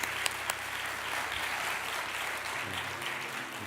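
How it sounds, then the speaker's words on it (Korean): A congregation at an early-morning church prayer service claps together for a few seconds, a dense, fairly soft burst of applause with no talking. "박수로 우리 격려하겠습니다."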